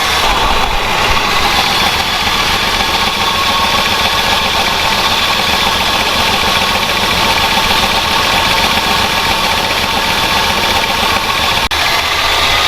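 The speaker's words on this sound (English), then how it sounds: "Yeah, motor's a little chattery" Mopar engine that sat in the desert for 20 years, now running with a slightly chattery motor, a loud steady idle with constant mechanical clatter and vibration, close up with no voices.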